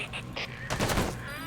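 Enemy soldiers fire at the player in Metal Gear Solid V: The Phantom Pain, a dense cluster of rapid gunshots in the middle, set among softer game effects and a rising electronic tone.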